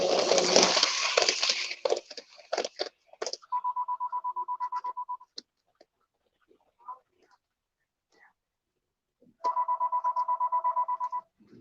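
A phone rings in two bursts of rapid, pulsing trills, each about two seconds long and several seconds apart, following a stretch of clattering handling noise at a model train layout.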